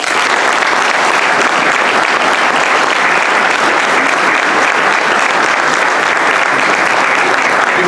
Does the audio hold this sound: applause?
yes